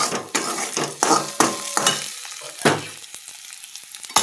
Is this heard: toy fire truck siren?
no